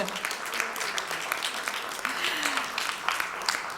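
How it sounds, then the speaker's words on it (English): An audience at the WLSA 2023 conference claps steadily as a speaker walks on stage, a dense, even patter of many hands at moderate loudness with faint voices mixed in. "We're loving the applause."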